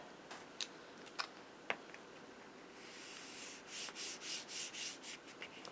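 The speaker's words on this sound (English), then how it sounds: "Line up those scissors against the edge and use that paper as a guide and just cut that edge off." Scissors snip and slide through cardstock for a handmade card, a few sharp isolated clicks early on followed by a run of rhythmic, fairly close cutting strokes in a quiet room.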